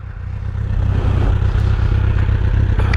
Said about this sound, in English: Starts right up every time,